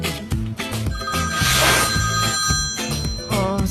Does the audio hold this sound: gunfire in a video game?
no